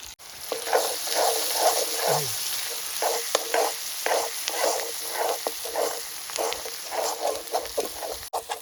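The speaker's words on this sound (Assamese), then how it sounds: "ফাৰ্ষ্ট টাইম এইটো ভাজি ল'ব লাগিব মছলাবিলাক" Ginger-garlic paste, turmeric and spices fry in a pan before pork goes in, crackling in a steady hissing sizzle broken by rhythmic scrapes of a stirring spoon, close and moderately loud with no talk.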